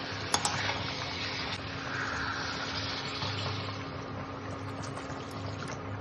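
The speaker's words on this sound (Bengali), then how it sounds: "এবার জল ঢেলে দেবো" Water poured from a vessel into a pot of chicken curry with potato and papaya, giving a steady close splashing wash throughout, with a brief clink of a utensil near the start and no talk.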